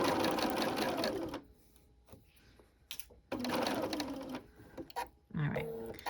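A home sewing machine stitches around a curve in fabric in close, steady running bursts, stopping and restarting several times with short quiet gaps between runs.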